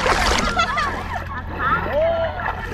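Water of the Apayao River in Kabugao splashing and sloshing nearby, steady and fairly loud, with voices talking over it throughout.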